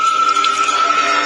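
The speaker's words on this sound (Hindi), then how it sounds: "सिर की जगह से लगातार खून टपक रहा था" Steady liquid dripping and trickling effect meant as blood dripping from a headless body in a haunted-forest horror tale, loud and continuous with a thin ringing tone, alone with no voices.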